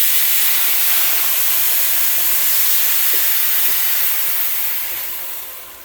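Water poured into a hot pan of sausage and bacon fried rice gives a loud, steady, close hiss of steam that holds for several seconds and then slowly fades.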